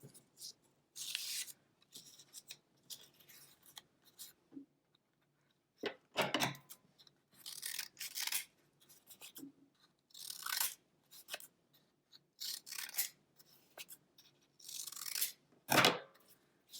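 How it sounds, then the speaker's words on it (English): Scissors cut out a paper shape for Kente cloth art, giving intermittent close crisp snips and paper rustles in short bursts with quiet gaps between. "I'll actually take these and I will cut out this shape again"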